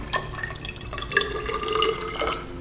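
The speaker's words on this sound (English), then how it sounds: "I'm going to pour the fertilizer mixture" A fertilizer mixture is poured into a small paper Dixie cup in a steady, trickling stream with faint dripping, heard up close.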